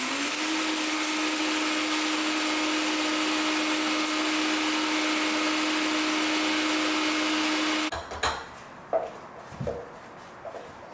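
A Vitamix blender grinds dried sambar spices into powder with a loud, steady motor whine that runs unbroken for about eight seconds. It then cuts off, leaving a few faint clicks and knocks.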